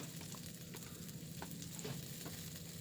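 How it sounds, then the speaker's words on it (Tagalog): Chopped onions frying in a pan, a steady low sizzle with a few soft clicks of a utensil stirring, fairly quiet and continuous with no voices. "Hayaan nating maluto ating sibuyas"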